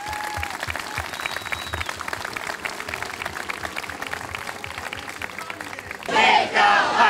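A large outdoor crowd at Devil's Lake State Park applauds park staff with sustained, even clapping throughout, then a loud burst of crowd chanting breaks out near the end.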